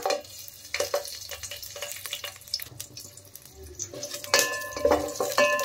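Cinnamon, cloves, cardamom and green chillies crackle and sizzle softly in oil while a utensil scrapes and clinks against the pan, with brief louder bursts of frying near the end.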